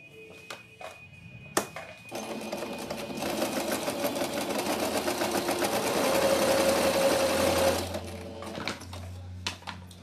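A sewing machine stitches a small hem on cotton lace for a fabric rag doll, starting with a few short bursts and then settling into a loud, continuous whirring run before stopping.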